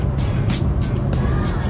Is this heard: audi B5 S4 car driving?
yes